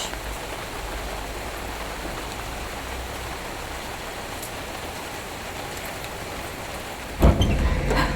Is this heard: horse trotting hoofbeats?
no